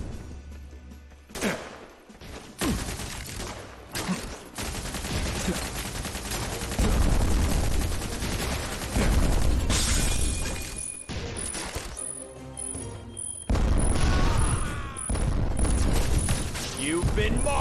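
Gunfire from the G.I. Joe Operation Blackout video game: dense bursts of shots and rapid automatic fire layered with mechanical clatter and crashes, loud and nearly continuous, with a voice talking over parts of it.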